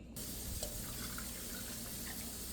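Tap water running steadily into a measuring cup while making pickling brine of vinegar, canning salt and water, a continuous close splashing fill with no talk.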